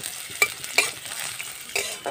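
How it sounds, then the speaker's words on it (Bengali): Chopped onion sizzles in hot oil while a utensil stirs it, giving short scraping bursts over a soft crackle. "প্রথমে পেঁয়াজটাকে একটু ভেজে নেব"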